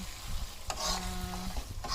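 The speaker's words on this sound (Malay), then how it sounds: "Kita tumis cili kering kisar ni sampai betul-betul kering." Ground dried chili paste for sambal tumis sizzles and crackles in leftover egg-frying oil as it is stirred, a steady frying hiss with occasional scraping, close up.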